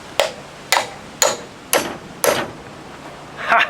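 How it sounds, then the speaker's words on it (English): A sledgehammer hits an old smart battery charger five times in a slow, even rhythm. Each sharp, close, loud whack is followed by a brief rattle, and a final jangling clatter comes at the end. "We're gonna take a sledgehammer to that old charger."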